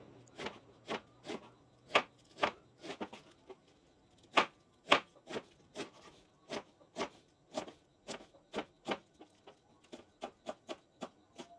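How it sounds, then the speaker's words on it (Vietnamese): A knife chops leaves on a board in a home kitchen, about twenty-five sharp, close knocks in an uneven rhythm, sometimes in quick pairs, with no talk over them. "Băm băm một tí cho nó bén."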